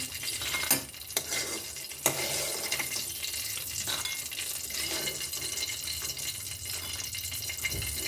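Pumpkin lentil dumplings (kumro bori) being fried and stirred in oil, with soft continuous sizzling and a few sharp utensil scrapes and clinks close by, no talking.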